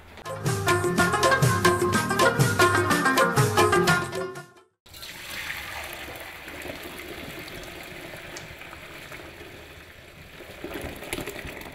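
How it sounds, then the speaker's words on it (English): Water from boiled rice for palaw pours out through a strainer as a steady, close rushing wash that lasts about seven seconds. Before it comes a few seconds of loud, rhythmic music, then a brief silence. "the water has strained"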